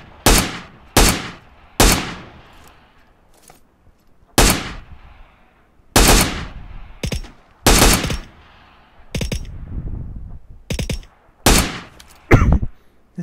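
Rifle fire in the PUBG Mobile game, a Winchester 94 among the guns: about a dozen loud, sharp single shots spaced unevenly, some quick pairs, each cracking out and dying away, with no talk.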